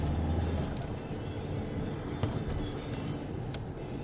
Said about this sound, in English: Right, there's a tram there.